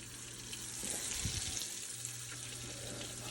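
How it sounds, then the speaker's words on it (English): Deer heart pieces and onions frying in a thin layer of bacon grease, a soft steady sizzle with a brief clatter of a piece being added, fairly quiet and close. "So there's 2, and that's in a thin layer of bacon grease. That's sizzling nicely."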